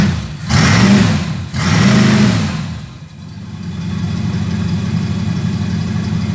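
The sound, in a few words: Chrysler 318 engine idling on a Bombardier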